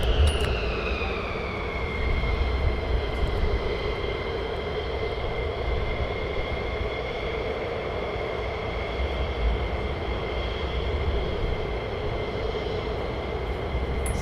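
A fighter jet taxiing on the north side of the airfield at RAF Lakenheath, a loud continuous engine roar with a high whine that slides down and then holds steady.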